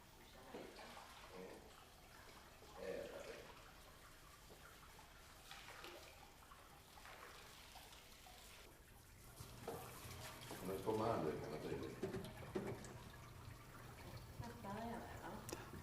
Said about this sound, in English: You can now conveniently shower off the resident.